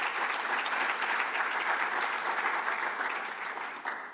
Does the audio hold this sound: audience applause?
yes